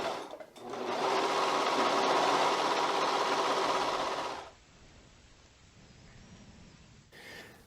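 A sewing machine stitches across the crown of a hood made of Alpha Direct fabric for an ultralight hoodie. It runs as a loud, steady burst for about four seconds and then stops, leaving a quiet room.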